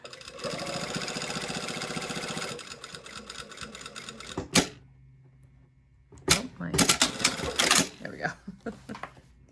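Sewing machine stitching a lining seam, a fast steady mechanical whir for a few seconds, then stopping; afterwards a loud clack and scattered handling noises follow with a person talking.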